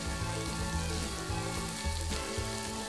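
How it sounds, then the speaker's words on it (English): Curry ingredients sauté in a pan over low heat, a soft continuous sizzle and crackle with faint rhythmic low thumps from stirring, fairly quiet and alone. "Stir and saute on low heat until aromatic"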